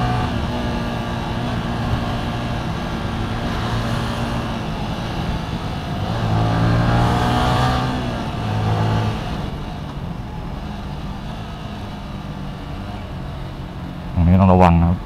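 A Yamaha MSlaz motorcycle at full throttle, pushed to 142 km/h, gives a steady, close engine drone under heavy wind roar. The engine note climbs and swells midway, then eases off.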